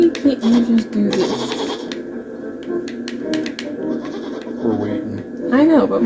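A video game goat bleats in short wavering calls, clearest near the end, under ongoing game sounds while people talk over much of the clip.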